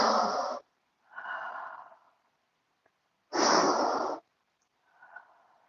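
Deep, slow breaths during a yoga half moon pose, a long inhale then a strong exhale repeated twice, close and clear, separated by quiet pauses.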